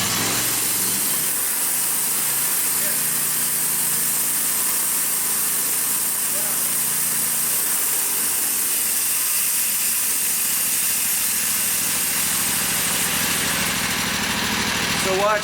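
A Norwood HD36 sawmill engine runs loud and steady close by, its idle tone giving way to a higher, harsher roar with strong hiss as the throttle opens, a voice briefly heard early on.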